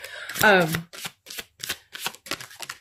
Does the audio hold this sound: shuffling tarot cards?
yes